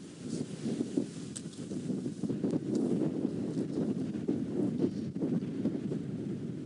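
Strong wind buffets and roars steadily across the microphone on a safari drive, a dense low rumble with gusty surges and no voices.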